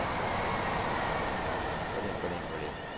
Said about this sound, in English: Oh, there's a Thameslink train coming.